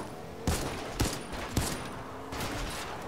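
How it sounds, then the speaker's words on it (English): Gunfire in the video game Fortnite: four sharp broadband bursts spaced roughly half a second apart, each with a short ringing tail, loud and fairly close with no talk over them. "Someone's shooting."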